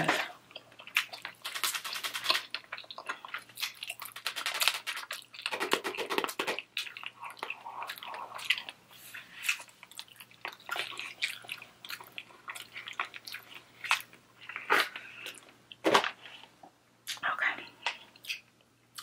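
Close, wet chewing and squishing of a rubbery sweet and sour gummy candy, irregular bursts of soft smacking and biting scattered through quiet gaps, with faint whispered talk in places.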